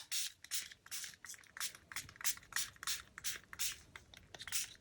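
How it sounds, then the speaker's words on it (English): Quick repeated hissing bursts of an aerosol can of gold spray paint, about a dozen short sprays in a steady rhythm, fairly soft and close. "I'll just spray with gold."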